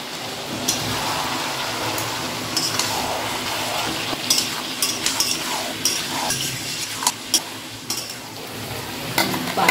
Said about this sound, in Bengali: এখন চিকেন কষাই করি বেশিরভাগ